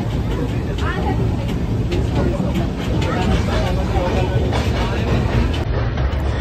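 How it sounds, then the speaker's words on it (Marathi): A Deccan Express passenger train rolls along slowly with a steady, loud rumble and a faint clatter of wheels, while a babble of passenger voices sits underneath the noise. "ही जी ट्रेन होती ती खूप स्लो चालत होती"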